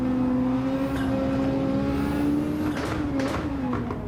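Race cars in Gran Turismo 7 howl around the track in a close train as one is overtaken, a loud engine drone with shifting pitch and a brief whooshing pass near the end.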